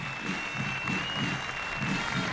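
Audience applause at a military band performance of the Ituzaingó Regiment in Argentina, with artillery draft horses on parade, a steady, fairly loud wash of clapping with a thin tone running through it.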